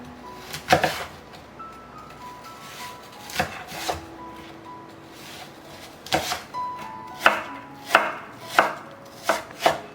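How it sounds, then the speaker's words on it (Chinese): Knife blade chopping peeled, cored apples into small dice on a board, a series of sharp, close cuts coming in uneven bursts that quicken toward the end, with brief pauses and no talking. "刨好皮了把芯去掉，再切成小丁。"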